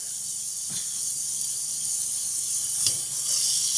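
Cooking oil hisses in a pan, a steady bright sizzle with a couple of faint clinks, heard close and alone.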